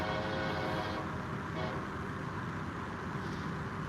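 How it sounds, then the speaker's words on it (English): A train rumbles past nearby at night in Iowa, with a steady, heavy roar and faint metallic squeals on top. "we are going to let the train roll by and let you guys hear all the audio"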